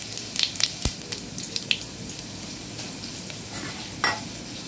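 Whole spices, cinnamon, cloves and cumin, frying in hot oil in a kadai, a steady close crackle with scattered stirring clinks and scrapes, no voices.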